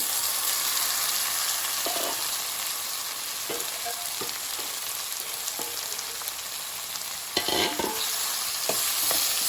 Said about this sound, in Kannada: ಈರುಳ್ಳಿ ಫ್ರೈ ಆಗ್ತಿದ್ದಾಗೆ ಈ ಹೋಳುಗಳನ್ನು ಇದಕ್ಕೆ ಸೇರಿಸ್ಕೊಳ್ತೀನಿ